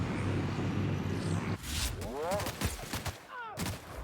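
Warning shots fire off in The Outer Worlds as a rapid burst of gunfire, first a rattling volley, then scattered sharp reports mixed with grunts and pained vocal cries from a character.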